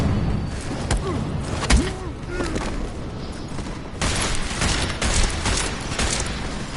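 Bursts of gunfire crack in rapid succession during a Deus Ex firefight, loud and close, with volleys at the start and a denser barrage after the midpoint; a voice speaks briefly between the shots.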